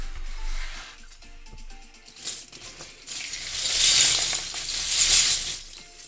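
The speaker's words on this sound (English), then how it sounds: "That's the sound of Lego." Used Lego bricks clatter and rattle continuously, building to louder bursts of jostling as pieces are shuffled and sorted nearby.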